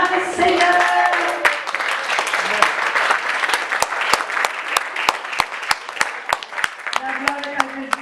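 A church congregation breaks into applause in praise, a dense burst that settles into a steady rhythmic clapping in time, with voices and singing audible over it.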